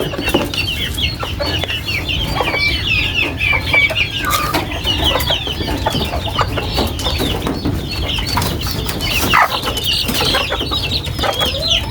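Chicks and chickens cluck and peep busily at feeding time, a dense, steady chorus of close, overlapping calls from the flock, with no talking.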